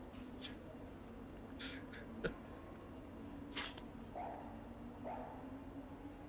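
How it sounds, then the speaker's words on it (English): A dog gives several short, high yipping barks spaced a second or two apart, somewhat distant and faint over a low steady background hum. "Why is there a dog in the paddock?"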